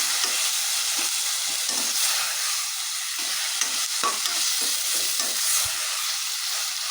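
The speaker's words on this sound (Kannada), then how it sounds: "ಸ್ವಲ್ಪ ಟೊಮೊಟೊ ಎಲ್ಲ ನೀಟಾಗಿ ಸಾಫ್ಟ್ ಆಗಬೇಕು ಚೆನ್ನಾಗಿ ನೀಟಾಗಿ ಸಾಫ್ಟ್ ಆಗೋವರೆಗೂ ಫ್ರೈ ಮಾಡ್ಕೊಳ್ಳಿ ಟೊಮೊಟೊನ" Tomatoes fry in a pan, making a continuous bright sizzling hiss close by, while soft scraping strokes of stirring come through at irregular intervals.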